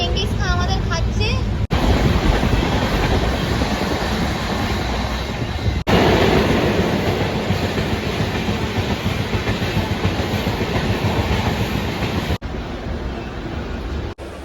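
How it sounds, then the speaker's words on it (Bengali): A train rolls along the rails on a trip from Howrah to Odisha, a steady loud rumble with rattling wheels and wind noise that continues throughout, with a couple of brief cuts. "চল ট্রেন আসছে ওঠ।"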